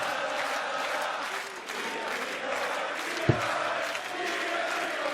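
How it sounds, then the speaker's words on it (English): A darts arena crowd at the European Championship cheers, chants and applauds in a dense continuous roar, with one sharp thump near the end and a commentator's voice mixed in. "The crowd's trying to raise Peter Wright."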